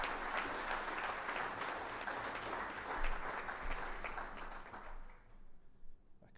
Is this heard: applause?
yes